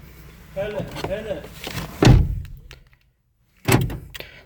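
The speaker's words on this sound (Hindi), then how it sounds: "यहाँ पर मैं इसका दरवाज़ा खोल के दोबारा बंद करूँगा।" A car door fitted with a B1242 wireless door-lock circuit is opened and then shut again, giving two solid thunks, the first around the middle and a second a moment later, with someone talking before them.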